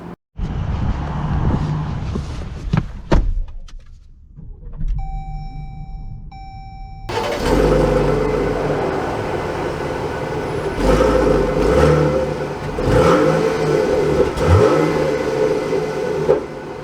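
A 2022 Jeep Grand Cherokee L Overland is started up, with a few chime beeps during a quiet pause. The engine then catches and runs, pulling away and accelerating with a steady hum and whir, and no one speaks.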